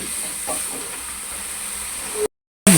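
Masala for lauki chicken frying in a pan, a steady close hiss and sizzle running without pause, then a brief cut to silence before the sizzle returns.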